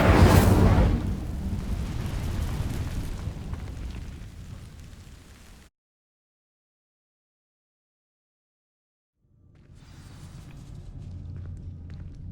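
A roaring fire spell in Hogwarts Legacy bursts loudly as it ignites dry vines, then fades over several seconds into silence before a low, quiet rumble returns.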